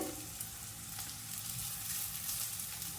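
Capsicum and green chilies frying in a pan for mushroom fried rice, a steady soft sizzle with faint stirring, close and continuous without talk.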